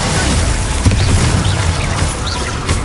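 The Glacius ice spell cast in a video game bursts out as a loud, dense rushing blast with crackling texture, sustained throughout at close range.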